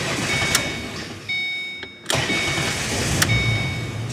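A Ford Mustang with a no-start, no-crank fault fires up after the key is turned on: a steady broadband car rumble with sharp clicks, a brief drop-out midway, then the running sound returns.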